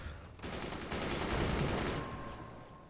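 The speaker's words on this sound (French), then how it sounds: "J'entends que ça tire." Rapid weapon fire in the video game Forts, a dense burst of overlapping gunshots and booms lasting a couple of seconds before fading, fairly loud and alone.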